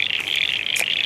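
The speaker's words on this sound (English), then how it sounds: "You can probably hear the frogs here in the background." Frogs croak steadily in the background at an outdoor 3D archery range after heavy rain, a continuous chorus with a couple of louder calls standing out, no talking.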